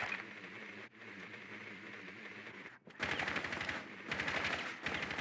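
Rapid automatic gunfire in Rainbow Six Siege, a steady stream of shots that stops briefly and then returns as louder, sharper bursts with distinct repeating cracks.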